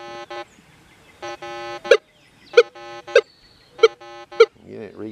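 Minelab Manticore metal detector sounding a nail target: short repeated electronic tones in bursts, clear and close, with a voice briefly at the end.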